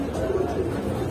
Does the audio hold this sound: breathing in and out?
no